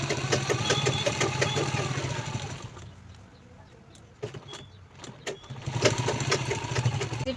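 A sewing machine stitches a purse in short mechanical runs, its rhythmic clatter fairly close and steady, dropping out for a quiet pause midway before picking back up to stitch again.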